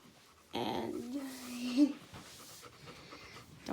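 A pet dog pants in quick, breathy bursts up close, with a brief whimpering tone in the middle, then quieter breathing trails off.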